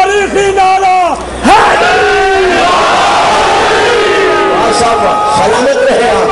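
A large crowd at a religious gathering in Safar shouts a slogan in unison. Loud, drawn-out massed voices swell after a short pause and hold as a roaring chant.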